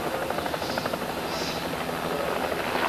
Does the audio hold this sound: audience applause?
no